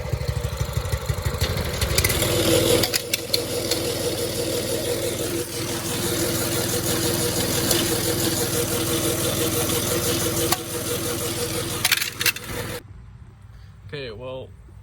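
A $150 Predator clone engine runs steadily on a go kart, a loud continuous mid-pitched drone with a rough, knocking edge for about thirteen seconds before cutting off abruptly, followed by brief quiet.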